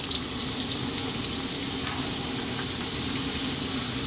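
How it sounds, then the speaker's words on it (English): Ginger dropped into hot clean oil in a wok for a Chinese stir-fry fish dish crackles with a steady, dense sizzle that holds evenly throughout, close and fairly loud, with no voices. "Got some clean oil in there. We're gonna start off by dropping in our ginger."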